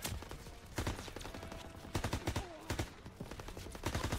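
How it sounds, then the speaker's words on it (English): Gunfire in the Call of Duty WWII campaign, with repeated bursts of automatic fire and single shots cracking out in irregular clusters at a steady, moderate loudness. "Stop shooting around the corner, cheater!"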